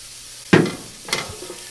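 Shallots and garlic in a pan for a mushroom, bacon and chicken risotto, giving two brief bursts of sizzling and stirring that fade into a soft low hiss, no voices.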